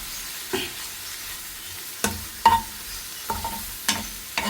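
Tomatoes sautéing in a pan for a Kerala ayala nirachathu (stuffed mackerel), with a faint low sizzle and intermittent stirring scrapes and clacks of a utensil against the pan, no talking.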